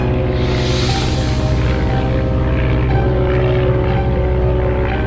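Loud, steady drone of a World War I airplane engine in a flight combat game, with a continuous propeller roar that swells briefly near the start and holds without a break.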